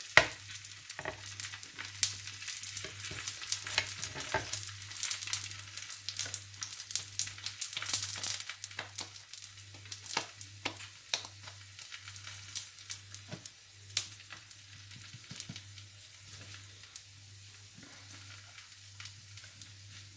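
Stuffed chicken parathas frying in a pan over a low flame, a soft steady sizzle with faint crackles and occasional light scraping, quiet and close with no talk.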